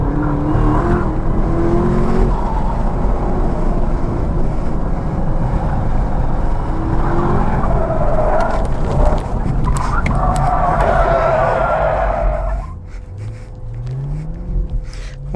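Chevrolet Camaro ZL1 1LE in stock form on track at Sebring during time trials, a loud continuous engine roar buffeted by heavy wind noise, with a tire-squeal-like sweep before it quiets near the end.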